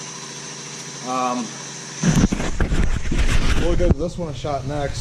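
Small engine of a Honda Z50 minibike idling with the choke on after a kick start, a steady low putter running close by under a voice.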